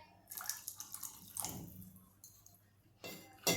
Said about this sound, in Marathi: थोडंसं पाणी मी यामध्ये वाढवणार आहे